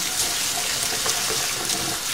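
Running tap water pours steadily over rice being washed in a kitchen sink, a constant close splashing rush with no talk.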